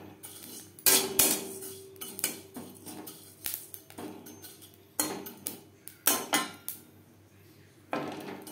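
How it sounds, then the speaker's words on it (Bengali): A handful of fennel seeds dry-roasting in a pan, stirred with a metal utensil that clatters and scrapes in irregular clinks and bursts, close and fairly quiet, no talking. "আমি এখানে 1 মুঠো মতো মৌরি শুকনো খোলায় ভেজে নেব"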